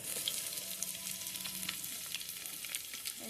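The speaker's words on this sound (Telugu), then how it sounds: "దాంట్లో ఎల్లిపాయలు వేసేయండి." Garlic sizzling and frying in hot oil in a pan for dosakaya pappu, a dense steady crackle with small pops, close and continuous with no talk.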